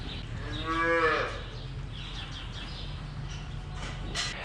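A cow on a working dairy farm moos once, loud and near, a drawn-out low call in the first second and a half, followed by quiet farmyard ambience with faint bird chirps.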